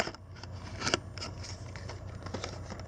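Scissors snipping through tape on the box of an F-Toys Confect 1/24 Kawasaki GPZ900R model kit, close crackly cuts with one louder snip near the start and no talking.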